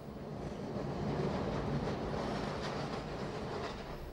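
A passenger train rolls along the rails with a steady, dense rumble and faint rhythmic clatter, heard from inside the carriage, continuous and moderately quiet, with no voices.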